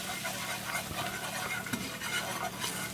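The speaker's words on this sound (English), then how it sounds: "Let's stir the roux." A butter and flour roux for crawfish étouffée is stirred in a pan, with a soft steady sizzle and faint scraping spread evenly across a few seconds, low in level and without speech.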